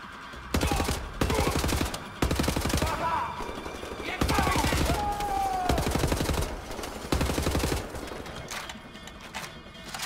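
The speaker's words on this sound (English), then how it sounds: "Use the assault rifle." Assault rifle in Wolfenstein: The New Order fires in loud, rapid automatic bursts, several separate volleys cutting in and out over about ten seconds, with faint game sounds between them.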